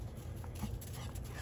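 A dog whimpers softly and pants in quick, breathy bursts, faint and close, over a steady background hum with no voices.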